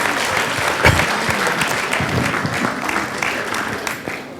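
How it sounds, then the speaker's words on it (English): Audience at an annual day event gives a round of applause for the audio video team, a full, even wash of clapping that tapers slightly at the end. "Just to give a big round of applause."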